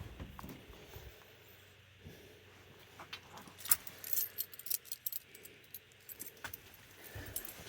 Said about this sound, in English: Got my keys right here.